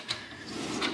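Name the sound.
drawer of a tool cart being opened or closed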